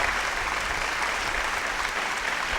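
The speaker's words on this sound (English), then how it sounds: "A big round of applause for Professor Nizamul Hassan" Steady, full applause from a crowd at an awards and fundraising event, with dense, even clapping that holds without pause for the whole stretch.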